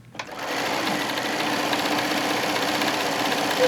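A sewing machine stitches quilt pieces in a fast, steady run that starts abruptly and holds an even mechanical whir, close and clear, with no talk.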